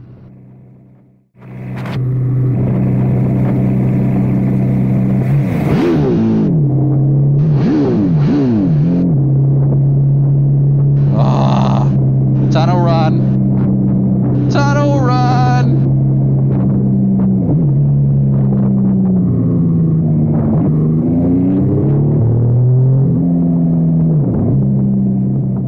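A Triumph Speed Triple RS sport bike being ridden, its engine droning loudly and close with repeated rev rises and drops as gears change, some bursts of wind noise on top.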